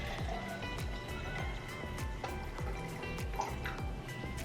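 Sangria wine is poured into a bath, giving a continuous liquid trickle with rhythmic splashy drips at close range and no talking.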